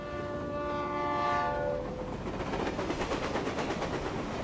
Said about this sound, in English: And why is the stupid train never on time?